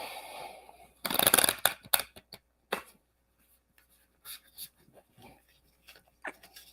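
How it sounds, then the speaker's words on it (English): Deck of playing cards being shuffled, a sharp riffle burst near the start followed by a few shorter flicks and taps, close and crisp against near silence. "We shuffle this deck pretty good then. Mix all the cards up"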